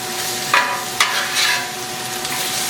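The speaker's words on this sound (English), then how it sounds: "We're going to throw some garlic in there, a big old helping of garlic, and we're going to stir that garlic around in there." Garlic stirred on a hot griddle with peppers, mushrooms and onions, a steady close sizzle broken by two sharp scraping strokes near the start and a softer stir midway, no voices.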